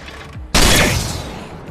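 A single loud gunshot cracks in the zombie video game Dead Rising 4, a sudden burst that decays over about a second, heard alone with no talking.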